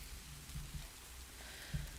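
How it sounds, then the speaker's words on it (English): Rain falling outside, a faint, steady hiss with a few soft low thumps, heard from indoors with no talk. "It's quite nice having the rain going."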